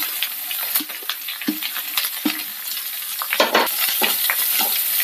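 Onion slices and curry leaves frying in a pan, a steady close sizzle broken by repeated scraping stirs and clinks, with no voices.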